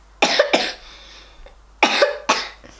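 Two pairs of close, harsh coughs, each burst double-barreled, with a short quiet gap between the pairs.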